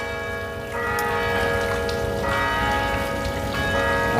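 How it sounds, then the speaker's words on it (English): Church bells ring steadily from about two blocks away, a faint, sustained tolling that stays in the background with no talking. "It's like 2 blocks down, but you can hear the bells."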